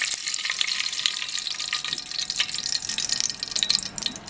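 Ghee heating in a pan while making aravana payasam gives a constant bright, crackling sizzle with faint pops, steady and close, alone without any talking.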